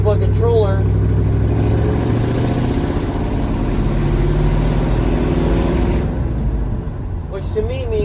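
A diesel engine with brand-new glow plugs and a new glow plug controller runs steadily at high idle, a constant low rumble and hum filling the whole stretch, with a few background voices speaking over it.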